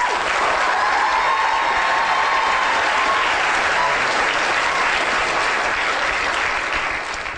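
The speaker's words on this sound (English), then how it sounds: "give a big round of applause to Vince" A lecture audience applauds Professor Vince Walsh of University College London, a brain scientist: dense, steady clapping from a large crowd, loud and sustained for the whole stretch with no voices on top.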